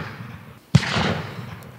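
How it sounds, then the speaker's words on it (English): A cannon fires nearby with a single sudden loud boom, its blast rolling on into a lingering rumble that fades over the next second. "there's actually this cannon behind me that just keeps randomly going off"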